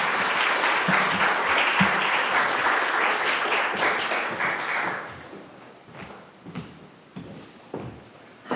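An audience welcomes poet Kari Marcus at a Cornell English MFA graduation reading with sustained, full applause that fades after about five seconds into scattered claps, knocks and shuffling.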